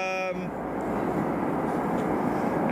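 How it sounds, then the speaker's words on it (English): A FedEx MD-11 jet comes in to land at Ted Stevens International Airport in Anchorage, heard as a loud, steady engine roar that follows a brief tonal whine at the start. "Now the FedEx MD11 has to get in behind the FedEx triple."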